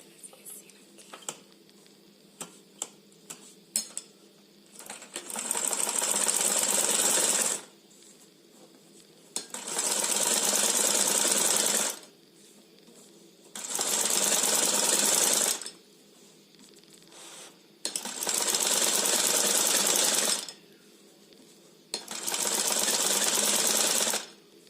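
A sewing machine stitches a folded strip cut from an old saree in five steady bursts of a few seconds each, with short pauses and faint handling clicks between runs.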